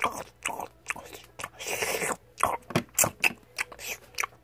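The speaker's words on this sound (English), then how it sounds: "Why are you gotta crunch so loud?" Loud, close crunching and biting of an iced cookie, a quick run of sharp crisp bites and chewing bursts, with no talking.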